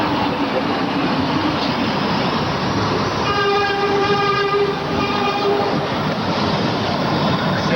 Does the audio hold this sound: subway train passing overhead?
yes